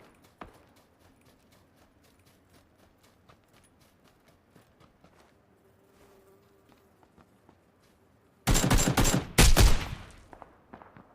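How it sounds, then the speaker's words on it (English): Gunfire from PUBG, PlayerUnknown's Battlegrounds, bursts late after a quiet stretch of soft ticking footsteps, two loud close volleys of rapid shots crackling near the end. "We're sniping."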